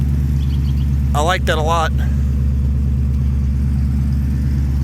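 A 1996 Ford F250 idles steadily with Flowtech truck headers and Smitty mufflers, giving a low, even rumble that holds loud and close throughout while someone speaks briefly over it.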